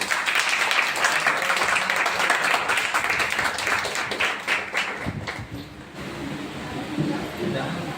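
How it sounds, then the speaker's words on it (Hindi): A Sunday church congregation breaking into loud applause, dense sustained clapping filling the room, thinning slightly toward the end with voices mixed in. "तो परमेश्वर के लिए जोरदार तालियां बजाएंगे।"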